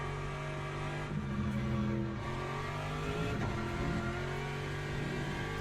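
A hypercar races at Spa-Francorchamps with a steady, loud engine drone and strong tonal whine that holds throughout, without a clear passing swell.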